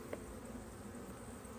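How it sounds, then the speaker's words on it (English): Honey bees hum in an open hive during frame handling, a steady, faint, close buzz with overlapping wing tones and no talking. "we got a good amount of bees in here"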